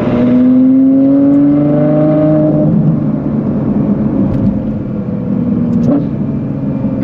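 A loud tuned car roars under full throttle with a rising engine note that climbs, drops at an upshift and climbs again, with a sharp exhaust crack near the end, close and dominant throughout.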